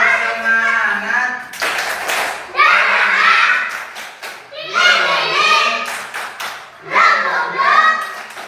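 Children in a classroom performing a rhythmic clapping chant in bursts of quick claps mixed with their loud chanting voices, several rounds repeated close by.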